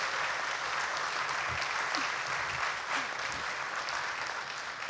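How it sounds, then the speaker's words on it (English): Crowd applause at a governor candidates' forum in Hilo, a dense, steady wash of clapping lasting the whole stretch without a break. "Seriously, he does get applause."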